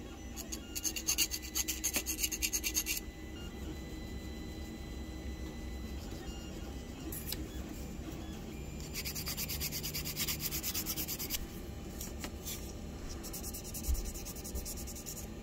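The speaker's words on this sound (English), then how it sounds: "I'm going to take some simple tools, just some of these needle files, some emery boards, and probably some sandpaper," Needle files, emery boards and sandpaper rasp and rub against a die-cast Hot Wheels car body to clean up casting marks, giving steady close scraping strokes in several bursts with short pauses between them.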